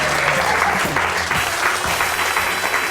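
An audience at a close-up magic performance claps steadily, a dense, fairly loud, continuous patter of many hands that holds evenly throughout with no speech over it.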